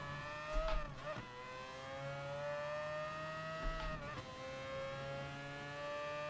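An LMP1 race car engine in Gran Turismo Sport, heard from a chase camera at high speed, holds a loud, steady high-revving whine, broken twice by brief dips as it shifts gears.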